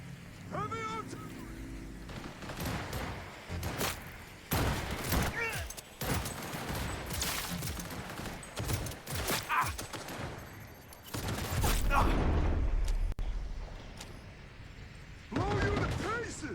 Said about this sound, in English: Heavy artillery!